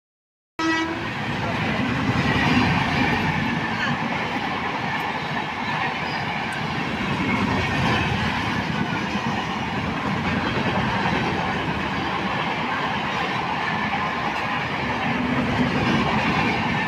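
Local train rumbling across the Kolaghat bridge over the Rupnarayan river, a loud, continuous rattle and roar of wheels and carriages heard from on board for the whole stretch, with a faint hum of voices mixed in.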